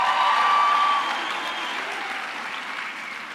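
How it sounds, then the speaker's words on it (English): Graduates applauding at a 2019 University of the Free State graduation ceremony, a dense burst of crowd clapping that gradually softens over a few seconds. "give yourselves a round of applause"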